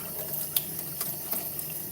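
Cold water is poured into a sausage mixture, a steady trickling splash with a few small bright spatters, close and moderately quiet with no voices.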